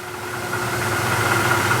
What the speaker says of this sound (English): Now we can move through a few presses here just to see a couple differences.